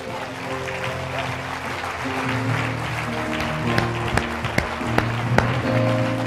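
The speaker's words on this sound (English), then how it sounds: "give him a great big applause." Church congregation at The North Church claps over sustained organ-like music chords, the applause a steady wash with a few sharper claps near the end.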